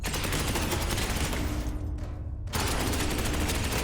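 Dense, continuous automatic gunfire in the Space Hulk video game, loud and sustained, broken by a brief half-second gap before the firing resumes just as heavily.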